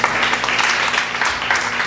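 A church congregation gives a clap of praise, a loud, close burst of many hands clapping together in a lively, uneven patter that carries steadily through.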